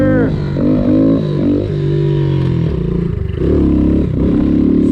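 Yamaha TTR 90 dirt bike revving close up, loud rising and falling engine whine with gear changes and some rattling clatter, no talking.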